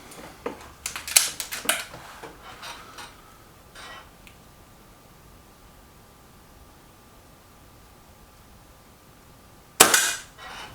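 Stoeger XM1 air rifle shots, a cluster of sharp cracks and clicks early on, then quiet before one more loud, close report near the end.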